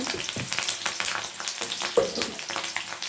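Curry leaves with chopped onion sizzle in hot oil as a close, steady frying hiss, broken by occasional stirring clinks and scrapes in the pan.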